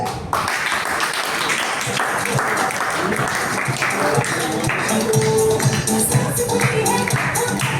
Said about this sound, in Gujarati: ઓકે, તો આપ સૌની જોરદાર તાળી થશે